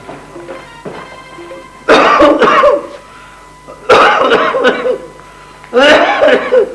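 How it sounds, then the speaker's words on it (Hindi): Three bursts of harsh, throaty coughing come at roughly two-second intervals, close and loud, with quieter breathy sounds between them. "क्या सुरीली खांसी है तुम्हारी"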